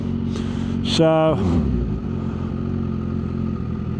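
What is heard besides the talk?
Kawasaki Ninja H2 motorcycle engine with Van Diemen exhaust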